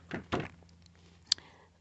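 The plastic side door of a GoPro Hero camera slides open and its clasp detaches, heard as a pair of soft scraping slides followed by a sharp, close click.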